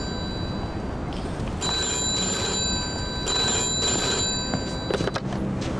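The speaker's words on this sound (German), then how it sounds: "Und wieder mal klingelt das Telefon." A telephone rings at a workplace in the Mafia 2 Definitive Edition video game, with repeated electronic ring bursts over a steady background hum and no talking.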